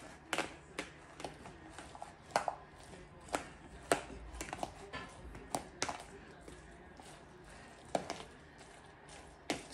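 Avocado sliced and mashed with a fork for chunky guacamole, a series of sharp close taps and squishy scrapes against a bowl, irregular and spaced about every half second, with faint low background and no speech.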